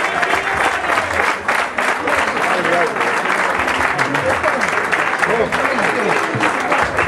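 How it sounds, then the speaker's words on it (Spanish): Steady, vigorous applause fills a tribute lunch: many diners clap continuously and loudly for about seven seconds while voices murmur underneath. "Un aplauso para todos."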